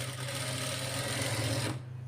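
Sewing machine stitching a slit on a lehenga blouse for an 8 to 10 year old child, a close, steady rapid mechanical whir that runs continuously and then stops abruptly near the end.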